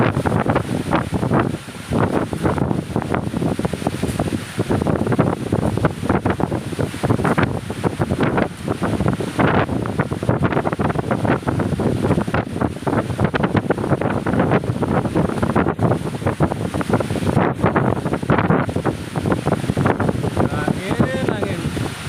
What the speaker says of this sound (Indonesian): Tiba-tiba angin banter.